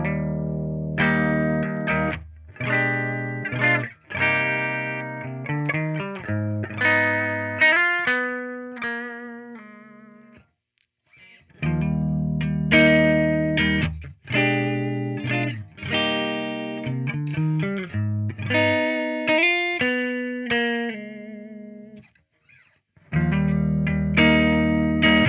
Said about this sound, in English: play this guitar here in all 3 pickup positions